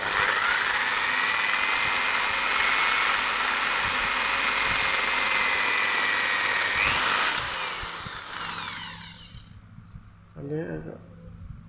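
A motor casting is rubbed down with a loud power tool during a bush-to-bearing replacement. The tool drones continuously and close, then winds down, and a brief voice follows near the end.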